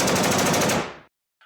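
A voice imitates rapid machine-gun fire with the mouth, a loud, dense burst of staccato shots lasting about a second, cut off abruptly, followed by a brief faint blip after a short silence.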